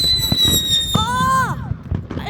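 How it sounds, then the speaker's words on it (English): Loud fireworks: a shrill, sustained whistle bends and fades amid a run of popping crackles, with more scattered bangs trailing after. "There's fireworks in the background."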